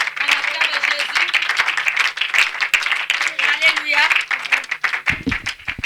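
A church congregation at a prayer day applauds and cheers for Jesus, with sustained, loud clapping filling the space while a voice speaks over it.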